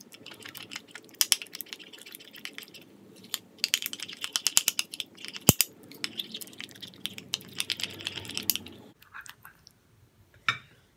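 A face pack paste mixed with cucumber juice is stirred in a small bowl, a quick irregular series of close, soft clicking and scraping taps, then a pause and one last tap.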